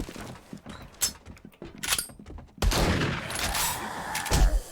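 Gunfire aimed at zombies in 7 Days To Die, with scattered sharp shots at first, then a dense, loud burst of rapid firing that runs to the end.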